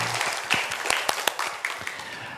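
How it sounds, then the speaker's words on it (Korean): Applause from a church congregation during a combined worship service, a scattered round of hand claps with a few sharper individual claps standing out, fairly close and moderate in level. "하나님께 영광의 박수 올려드리겠습니다"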